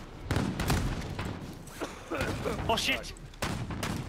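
Shotgun fire in the video game Call of Duty: Warzone: several sharp, loud blasts in quick bursts, with a man's startled exclamations over them.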